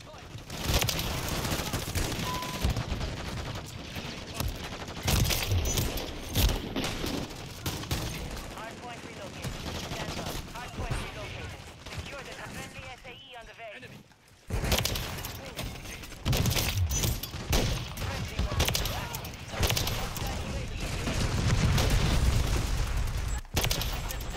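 Near-continuous Call of Duty gunfire fills the whole stretch, dense bursts of automatic shots and rattling fusillades with a brief lull midway, loud and close, with some voice mixed in.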